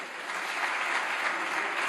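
Members of the Spanish Congress of Deputies in Madrid applaud, a brief, dense burst of many hands clapping together that fills the chamber.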